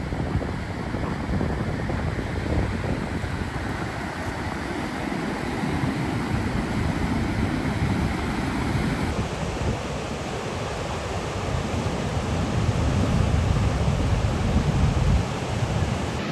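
Ocean waves roll onto a coast beside a campground, a continuous loud wash of surf mixed with wind rumble and no clear breaks.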